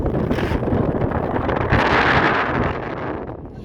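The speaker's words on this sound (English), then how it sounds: "We're under sail. Sailing." A sailboat under sail in the wind, with steady wind buffeting the microphone, loud gusty rushing that swells midway and then eases off, no talking.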